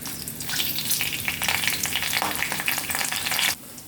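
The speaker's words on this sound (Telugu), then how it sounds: "నెక్స్ట్ వెల్లుల్లిపాయలు అయితే వేసుకుందాం. ఎండుమిర్చి అండ్ కరివేపాకు." Garlic, dried red chillies and curry leaves sizzle in hot oil for a cucumber chutney tempering, a loud, crackling fry that bursts up and then drops off abruptly near the end.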